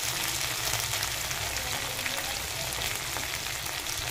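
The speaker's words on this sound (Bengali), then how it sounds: "আদা বাটা 1 চামচ, দিয়ে ভালো করে মশলাটা সঙ্গে কষিয়ে নেব" Ginger paste and spices sauté in a pan with a dense, loud, continuous sizzle and hiss that holds steady for the whole stretch.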